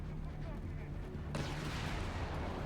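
A mortar fires in Company of Heroes 3, a sharp broadband boom bursting in midway through and ringing on over steady battlefield background noise, with faint voice underneath.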